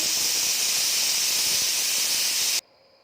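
Pressure cooker whistling while cooking mixed sprouts curry, one loud steady hissing blast of steam lasting a few seconds, then cutting off abruptly.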